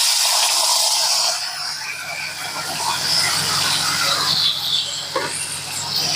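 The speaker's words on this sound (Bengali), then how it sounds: "এবার ওই তেলের মধ্যে দিয়ে দেবো পেঁয়াজ বাটা।" Onion paste dropped into hot oil with whole dried chilli, cardamom and clove, a loud broad hissing sizzle that eases slightly, then holds steady throughout.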